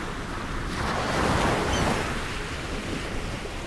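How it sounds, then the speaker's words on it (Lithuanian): Strong wind gusts along the Irish Atlantic coast, a broad, steady roar with rushing surf-like noise that swells in the middle and buffets the microphone, with no speech. "Tai ir gaunu nuolatinį vėją. Kartais stiprų, bet dažniau labai stiprų."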